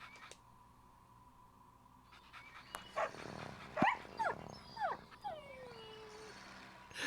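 A dog in a Philips CD-i golf game gives a few yelps and whimpering barks over a quiet background, spaced irregularly across several seconds.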